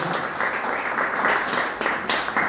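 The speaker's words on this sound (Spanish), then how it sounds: "le damos un fuerte aplauso a Lucia Acevedo" An audience applauds a former carnival queen at a 2022 cultural ambassador carnival vote count, the clapping steady and dense for the whole stretch with small swells, no talk over it.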